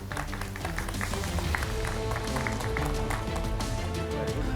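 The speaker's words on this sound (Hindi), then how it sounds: "तालियों का साथ" Studio audience applauding a magician's trick exposing fake miracles, dense and continuous clapping at moderate volume, with music or other sound running underneath.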